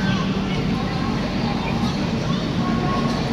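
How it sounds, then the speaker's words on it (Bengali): Train noise at a railway station in India, with a steady rumble and hiss that fill the whole stretch at a loud, even level. A babble of voices from the busy platform runs underneath. "সবে ট্রেন দিয়েছে, যে এটা B4"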